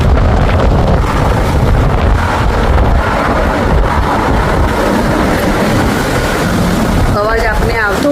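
Strong wind roaring steadily outdoors in Canada as rain begins on wet roads, a loud continuous buffeting rush, with a brief chirping sound near the end.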